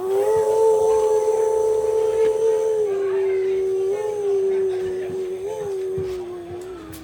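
A loud, sustained train whistle blast, the big steam-style whistle likened to the Phantom 409, holding a strong steady pitch for several seconds with slight bends, close and dominant over faint crowd noise.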